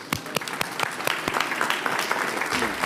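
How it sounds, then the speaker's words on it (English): Crowd at an outdoor ceremony for an affordable housing project applauding to welcome the mayor, loud and close, with distinct sharp individual claps over a dense continuous patter throughout, and no talk. "hearty round of applause."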